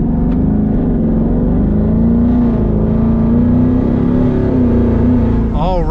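A twin-turbo Mustang GT pulls under light throttle with the turbos in boost, its engine a steady, loud, close drone from inside the car that holds even and rises slightly toward the end.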